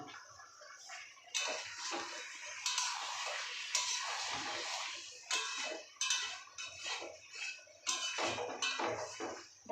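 Fried potatoes tumble into a pot of mutton, giving a run of clattering utensil knocks and scraping against the pot, loud and busy with repeated bursts, no voices.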